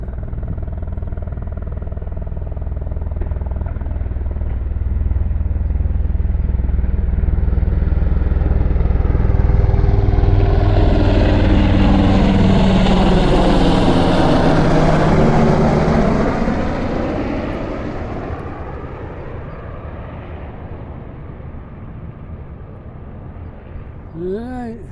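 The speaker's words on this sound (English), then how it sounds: "good up close shot of a helicopter, military helicopter. They're noisy." A military helicopter passes close by outdoors, its loud rotor thump and engine roar building to a peak mid-pass, then fading as it moves away.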